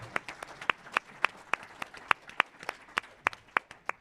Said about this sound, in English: I'm expecting thunderous applause at this moment